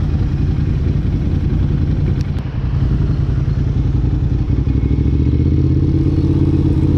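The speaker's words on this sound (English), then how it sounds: "Yes, I have little moments of torque and acceleration, which is the fun, especially with a Ducati." A Ducati sport motorcycle ridden on roads in Bali gives off a loud, close, steady engine drone with a deep rumble, the pitch shifting only slightly as the throttle changes, with no voices.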